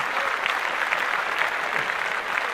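Applause from a small group, steady overlapping clapping at moderate volume that holds evenly throughout, with no voices over it.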